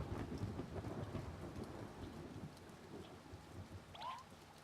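Rain falling in the video game A Bird Story, a steady dense patter with low rumbling underneath, fairly faint and continuous, a brief high chirp near the end.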